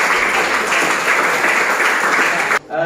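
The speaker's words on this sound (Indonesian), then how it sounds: "beri aplaus kepada seluruh kelompok yang telah memberikan" A classroom gives steady, dense applause for the student groups, clapping without a break for nearly three seconds before it stops suddenly.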